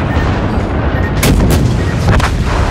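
Explosions in a video game, a dense run of loud, booming blasts and crackling bursts over a constant roaring background, several sharp hits landing close together.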